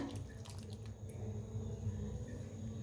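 Tamarind and jaggery soaking water poured steadily into a pan for sambar, with a continuous wet splashing and a few faint drips.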